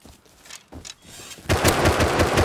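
Gunfire hitting the player in Rust: a few sharp isolated shots, then a loud, close, rapid burst of automatic fire that goes on unbroken to the end.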